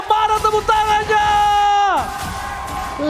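An arena crowd at an esports match between ONIC and RRQ roars and whoops loudly, with a sustained cheering yell that drops off sharply near the end into a lower hubbub of voices.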